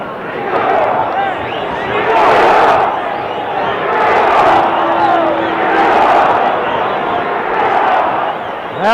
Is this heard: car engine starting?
no